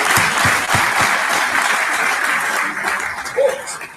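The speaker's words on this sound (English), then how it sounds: "Well, let's give them all a big round of applause again." A big round of applause for exhibitors at a brewing event, loud and sustained clapping from a crowd with a few sharper individual claps up front, tapering slightly near the end.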